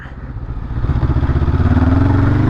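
A 2022 Honda CB500F twin-cylinder motorcycle engine pulses loudly and close, its throbbing firing rhythm rising steadily as it revs up under acceleration, with no speech.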